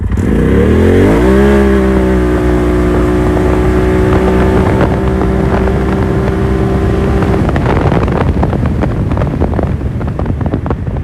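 A Polaris RZR XP Turbo side-by-side with a clutch kit and 32-inch tires accelerates hard on grass in four-wheel drive, its engine rising sharply then holding a steady loud drone before easing off amid wind buffeting, no talk.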